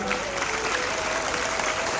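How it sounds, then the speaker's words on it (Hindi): A school crowd at an Independence Day celebration applauds staff, students and teachers, a loud continuous roar of clapping filling the space, with a faint voice or tone riding over it. "एक बार इन सब लोगों के लिए, स्टूडेंट्स के लिए, टीचर्स के लिए तालियां जोरदार"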